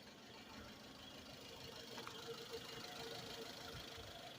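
A Suzuki Vitara engine, revived after sitting unused for 13 years, idles steadily at a low volume, with a continuous, slightly knocking mechanical chug and no voices.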